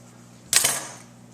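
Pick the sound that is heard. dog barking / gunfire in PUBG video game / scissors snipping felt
scissors snipping felt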